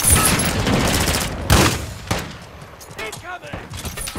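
Gunfire in the Call of Duty video game: dense rapid volleys with a sharp louder burst partway through, fading to scattered shots, while a voice talks over the battle.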